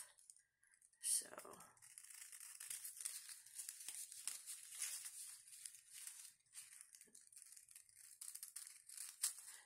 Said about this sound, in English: I'm going to cut that excess tulle off